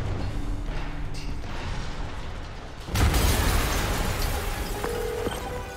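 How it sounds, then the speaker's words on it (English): A loud explosion erupts in a video game scene about three seconds in, a sudden heavy boom that cuts through steady background rumble and then rolls on as a sustained roar with debris-like crackle. "an explosion just..."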